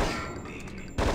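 Gunfire in the training level of the PC game Hitman: Codename 47 comes as a loud, dense burst of shots, with another heavy blast near the end of this very short moment.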